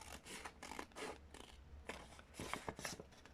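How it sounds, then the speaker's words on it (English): Scissors snip through card in a series of short, crisp cuts with uneven pauses between them, close and fairly quiet, with no voices present. "I'm going to cut this too in order to do both at the same time"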